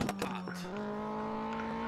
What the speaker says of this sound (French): J'adore le bruit du moteur.